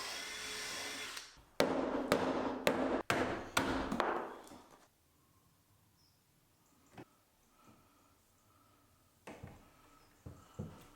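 A power drill whines in short, repeated bursts while stitch drilling through a double wall stud, then runs in a longer sustained stretch before stopping. Quiet follows, broken only by a few faint knocks.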